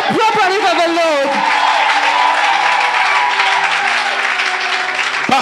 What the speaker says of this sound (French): si vous acclamez Dieu, acclamez-le bien. Clap properly for the Lord.